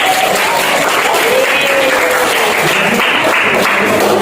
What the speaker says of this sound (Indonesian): tepuk tangan untuk Satrio.